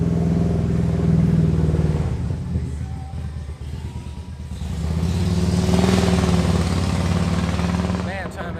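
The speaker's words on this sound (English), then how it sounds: "now we got a motorcycle" A motorcycle rides past a roadside spot with its engine growling and revving loudly throughout, while someone talks over the noise.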